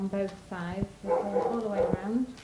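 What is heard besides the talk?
dogs barking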